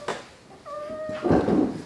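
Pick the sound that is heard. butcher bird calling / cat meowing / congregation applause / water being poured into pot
cat meowing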